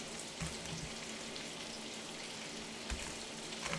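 Pork belly, already cured, frying in a pan with a steady, soft sizzle and crackle throughout, a couple of slightly louder pops, no talking.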